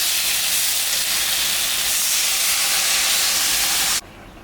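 Water poured into a pan of sautéed potatoes sets off a loud, steady hissing sizzle that holds for about four seconds, then drops off abruptly to a faint background.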